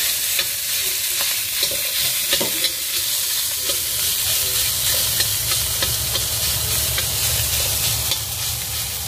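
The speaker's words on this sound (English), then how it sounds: "So I always like to break up the meat," Minced meat fries in a hot pan for mapo tofu, breaking up under a spatula: a loud, steady sizzle with repeated scraping stir strokes, close and continuous.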